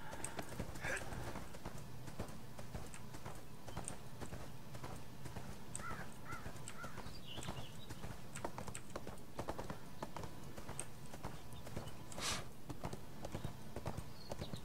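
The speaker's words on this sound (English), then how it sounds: "My horse just went down the hill on his own without me." Horse hooves clip-clop steadily at a walk in the online role-playing game ArcheAge, a continuous rhythmic patter under faint background game sounds and occasional quiet talk.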